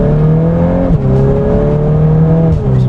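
A 2022 Volkswagen Golf R MK8 fitted with a louder aftermarket exhaust drones loudly and steadily while driving, its engine pitch dipping and rising as it shifts gears.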